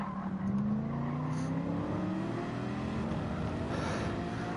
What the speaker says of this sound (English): I can hear the noisy bi-turbo V8 engine